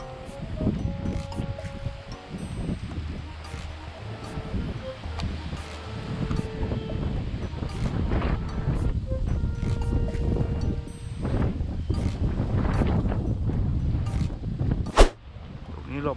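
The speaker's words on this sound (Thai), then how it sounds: "ลมนะครับ" Strong wind buffets an open-water outing on a very windy day, a loud, continuous roar with rumbling gusts and a sharp knock near the end.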